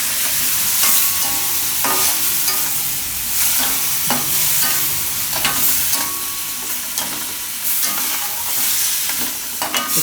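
Cauliflower simmering with yogurt in a pan over low heat gives a steady, close sizzle, with repeated scrapes and clinks of a spoon stirring through the mix and no voices.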